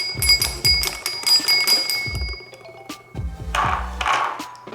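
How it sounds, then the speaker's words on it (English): A bell on a toy farm set rings repeatedly in quick metallic dings, bright and close, with clattering knocks and jangling between strikes. "We're gonna ring the bell."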